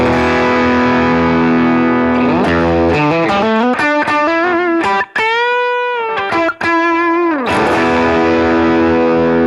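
Distorted electric guitar through a high-gain amp model on a BOSS GT-1000, played loud and close, with sustained heavily overdriven chords and bending notes ringing out with long sustain.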